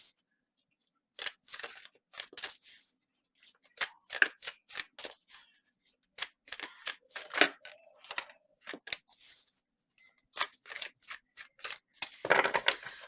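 Oracle cards being shuffled by hand during an Aquarius reading, a run of crisp riffling and flicking bursts in irregular clusters, fairly close and alone with no talk.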